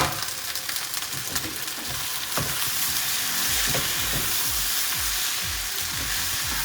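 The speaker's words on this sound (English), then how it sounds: "you are going to add the fried onion and bhindi" Fried onion and okra go into a hot pan and are stirred, giving a dense close sizzle with repeated scraping stirs, loud and steady with no talking.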